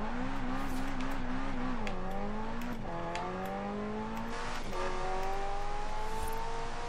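A car engine revs and races continuously in Forza Horizon 4 during a cross-country event, pitch climbing through gear shifts with brief drops, loud and steady, with a synthetic game-like quality and no talking.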